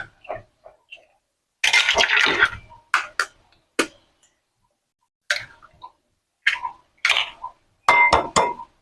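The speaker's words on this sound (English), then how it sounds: "we're gonna crack the eggs one by one," Eggs are cracked one by one against a bowl, a series of sharp, close knocks and clinks in separate bursts with short silent gaps between them, sometimes followed by a brief splat or rustle.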